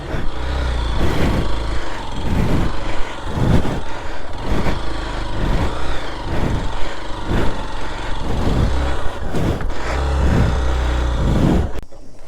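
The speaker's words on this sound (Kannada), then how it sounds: "ಮಳ್ಳೊಳಗೆ ಗಾಡಿ ಓಡಿಸೋದು ಈಸಿ ಕೆಲಸನೇ ಅಲ್ಲ" Off-road vehicle driving through mud on a track toward the Kaveri River, a loud rumbling engine that surges and dips in repeated bursts, heard close throughout with no talking.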